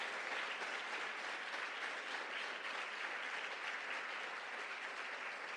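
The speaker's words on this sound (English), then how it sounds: "Let's hear another round of applause for all our amazing speakers for their hard work and courage" Steady audience applause at a middle school speech event honoring sixth-grade student speakers, even and continuous clapping from a room of people without speech over it.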